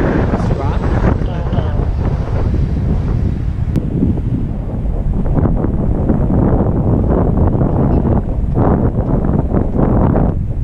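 Strong wind buffets the microphone at an RC jet landing practice field with a Freewing Yak 130, a steady loud low rumble throughout with gusty surges, and a voice speaks briefly over it.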